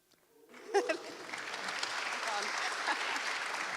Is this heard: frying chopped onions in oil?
no